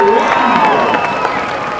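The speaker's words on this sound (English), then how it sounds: "Have a round of applause for our Super Freak champion," Audience clapping and cheering at an outdoor dog show at the Calgary Stampede, a steady wash of applause from a crowd, fairly loud and continuous throughout.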